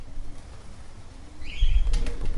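Racing pigeons return to the loft at the end of a competition flight, flapping their wings in a short burst that grows louder near the end. A faint cooing sits underneath the wingbeats.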